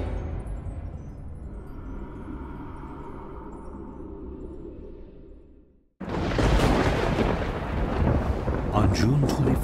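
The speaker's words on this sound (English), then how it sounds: "a mighty storm hits Milwaukee, bringing with it unimaginable chaos" A thunderstorm striking Milwaukee: a long low rumble slowly fades into near silence, then a sudden loud roar of thunder and driving rain bursts in and stays heavy to the end.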